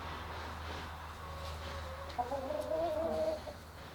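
A chicken clucks near a homemade nesting box built from an old drawer and reclaimed wood, with a low steady hum underneath and a drawn-out, rising cluck call in the second half, close and moderately loud.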